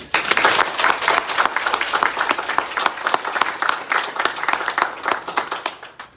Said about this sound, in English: let me ask you for one more round of applause for our phenomenal women.